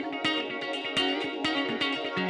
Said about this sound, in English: I just added this pad that's like one note just to give it more of a texture